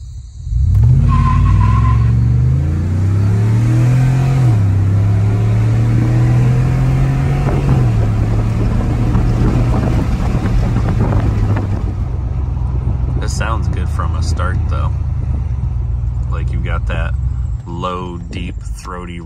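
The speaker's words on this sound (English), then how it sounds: "Throaty rumble to it." A 2018 Ford F-150 V8 with a Thrush glasspack exhaust revs and accelerates in sport mode, a loud, steady throaty drone rising and shifting through gears up close, with someone talking over it.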